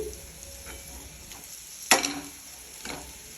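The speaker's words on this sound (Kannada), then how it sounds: "ಈಗ ಇದಕ್ಕೆ ಟೊಮೆಟೊ ಹಣ್ಣು ಹಾಕ್ತಿದೀನಿ" Tomatoes frying in a pan for ivy gourd chutney, giving a soft steady sizzle with a sharp stir or clatter near the middle and faint stirring scrapes after it.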